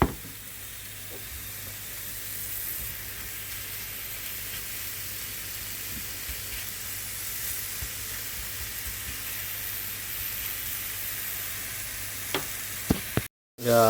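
Sliced mushrooms fry in a pan with a steady, close sizzle and hiss that runs unbroken, with occasional soft stirring scrapes and a brief gap near the end.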